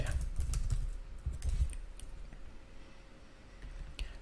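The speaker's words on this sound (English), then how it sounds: "And we can type our text here." Rapid tapping on a computer keyboard while entering text in Adobe Illustrator, a quick run of close keystrokes at the start, then sparser clicks against a low background hum.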